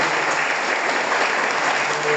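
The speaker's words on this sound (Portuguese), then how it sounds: "uma salva de palmas para ele" A church congregation applauds a long-married couple during a Holy Family feast Mass, steady dense clapping filling the room at an even level throughout, with no voices rising above it.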